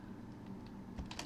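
Soft keystrokes on a computer keyboard tap quietly in a short, light burst near the end against a low background hum.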